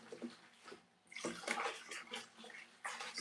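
Lukewarm water splashes and pours while a wig is being washed. Soft, close sloshing comes in uneven bursts, quiet at first and then fuller, with no voices.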